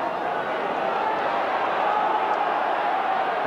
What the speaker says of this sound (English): The crowd willing one final effort here from United.